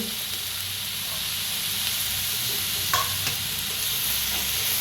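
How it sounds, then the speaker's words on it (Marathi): Garlic, ginger, green chillies and cashews roast in a pan with a continuous close sizzle and stirring scrapes, a couple of sharper clinks of a utensil partway through. "लसूण बी टाकूया, ह्याच्यातच भाजून घ्यायचं आहे। अद्रक, मिरच्या आणि काजू"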